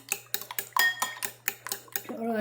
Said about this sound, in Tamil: இந்த முட்டையில் கொஞ்சம் உப்பு போட்டு அடிங்க.